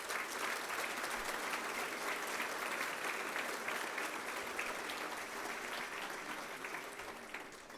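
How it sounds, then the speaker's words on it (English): Steady round of audience applause at an evening ministry gathering, fairly distant and even, many hands clapping continuously and slowly thinning toward the end. "I would like you to just give a round of applause to everyone who was involved in making tonight possible"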